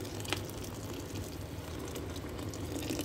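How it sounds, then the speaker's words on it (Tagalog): Hot water poured into a cooking pot of chicken on medium heat, a dense continuous rushing gush that stays steady and close for a few seconds. "lagyan natin ng mainit na tubig"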